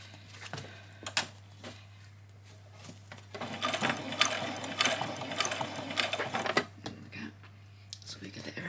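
A sewing machine stitches fabric fairy wings, running in a steady buzzing burst for several seconds in the middle, with a few sharp mechanical clicks before it and a person talking around it.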